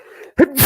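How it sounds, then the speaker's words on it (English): A single sudden human sneeze, close and loud, follows a brief breath and ends in a hissy burst of air. "Oh, I gotta sneeze."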